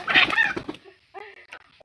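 Egg-laying hens fed rice bran cluck nearby in a few short, bright bursts, with quieter gaps and softer clucks trailing after.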